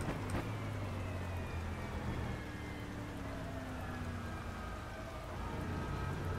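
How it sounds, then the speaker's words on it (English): Steady rain falling in the rFactor 2 racing game, with GT3 cars on track mid-day, a dense continuous hiss that holds even throughout, with faint tonal engine-like lines running beneath it and no voices. "The rain is starting to get louder because we set it so it was going to storm later."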